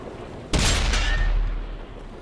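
A tank's main cannon firing in the World of Tanks video game on PS4, a single loud, close blast that breaks a quiet background and leaves a rumbling tail lasting over a second.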